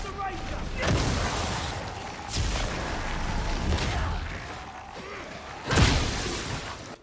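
Gunfire and impacts in the video game Darktide, a few heavy booming shots spaced across a dense, busy combat din with broadband crashes, loud and close.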